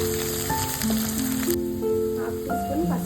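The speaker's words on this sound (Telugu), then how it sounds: "ఇప్పుడు వీటన్నింటినీ మంచిగా ఫ్రై చేసుకోవాలండి ఆయిల్లో." Chopped onion fries in oil, giving a soft, continuous sizzle that sits under steady tonal background music throughout.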